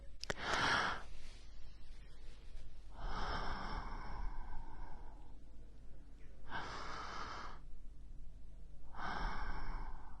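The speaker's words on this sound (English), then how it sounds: "I heard a deep breath, a sound like the wind rolling over mountains." A giantess's deep, slow breathing, long airy breaths drawn in and let out in a calm rhythm, four broad whooshes spaced a few seconds apart, close and steady.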